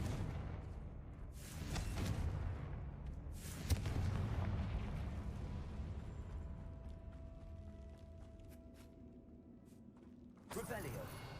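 Fire spells blasting in Hogwarts Legacy on PS5: a few sharp, booming bursts, each trailing off into a ringing decay, fairly quiet overall, with a voice speaking between them.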